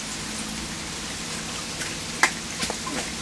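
Rain falls steadily during a hurricane, making an even, close hiss with a few sharper drips and taps near the end, and no one speaks.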